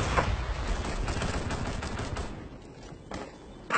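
Rapid automatic gunfire in Rainbow Six: Siege, aimed at a wooden surface, rattles out as a loud sustained burst, then breaks off into a few scattered shots.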